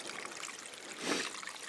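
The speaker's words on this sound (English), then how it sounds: "So what this is, just a little spillway over the dam." Water trickling over a small spillway on a beaver dam in a tiny creek, a soft steady outdoor splashing and gurgle that swells briefly midway before settling back to a continuous trickle.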